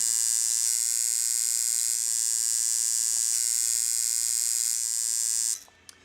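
A rotary or coil tattoo machine powered by a Critical CX2R-G2 dual output power supply, running with a steady high-pitched electric buzz for about five seconds before cutting off with a small click.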